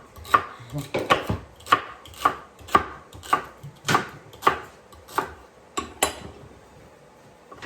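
Celery stalks are chopped on a wooden chopping block, giving about a dozen crisp, evenly spaced knife strikes up close, with no talking.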